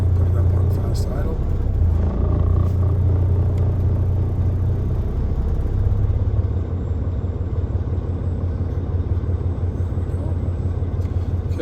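A 2016 Volvo VNL670 truck with a D13 engine, 621,000 miles, runs at fast idle in the cold: a steady, close diesel rumble and drone throughout, with no break.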